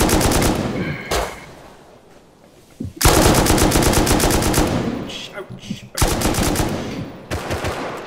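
Automatic gunfire rings out in a Rust firefight on an oil rig, with loud, close, rapid bursts separated by a few seconds of quieter background and a brief voice.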